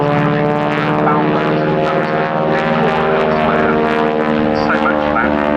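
A Hawker Hurricane flying a display at an air show gives a loud, steady piston-engine and propeller drone. A commentator talks over it throughout.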